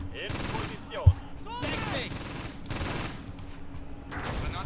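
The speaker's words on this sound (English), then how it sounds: "We got some shooting going on." Gunfire in the Close Combat wartime strategy game, scattered bursts of shots and a single sharp crack, fairly faint under someone talking across most of the moment.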